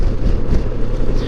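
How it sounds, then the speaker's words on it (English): Strong wind roars across open cotton fields in the middle of nowhere, a loud, steady low rumble with gusty buffeting against the microphone and no other sounds. "you get out in the middle of nowhere and it's windy"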